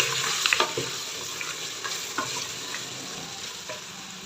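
Goat trotters (paya) frying with masala in a pot, a dense steady sizzle close up, broken by a handful of small spattering pops and utensil scrapes.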